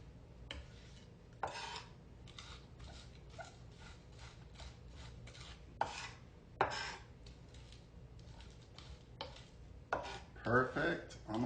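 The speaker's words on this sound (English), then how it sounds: "Just grind it into the board with your knife." A kitchen knife chops and grinds minced lamb and beef on a cutting board, with quick irregular taps and scrapes at close range, fairly quiet, with a few louder clacks near the end.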